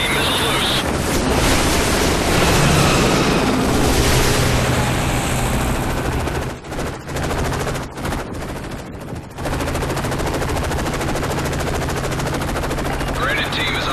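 Heavy automatic gunfire in the Modern Warfare 3 video game, loud and sustained amid wind and rumbling battle noise, with a few short gaps of choppier shots midway and voices shouting under the din.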